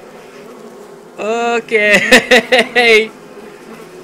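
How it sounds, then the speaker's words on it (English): Wasps buzz loudly in the Oculus Rift virtual reality game Don't Let Go, a swarm set in an office, with droning and pulsing bursts over several seconds; a person speaks briefly. "we've got a shit ton of wasps in our office right now"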